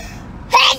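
One sharp, loud sneeze bursts out close by near the end, after a moment of quiet room noise.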